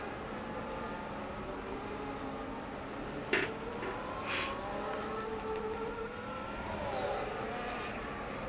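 F1 cars in the F1 25 racing game on the straight at the Spain circuit give a steady engine drone with rising and falling pitch as they pass, plus a few sharp clanks midway.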